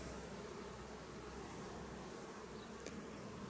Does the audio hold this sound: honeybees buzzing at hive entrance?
yes